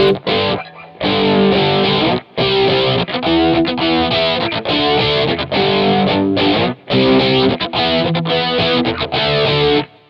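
Crunchy, heavily compressed distorted electric guitar through an MXR Rockman X100 preamp pedal on its edge setting, playing chopped chords in bursts with brief pauses, loud and close, very mid-heavy.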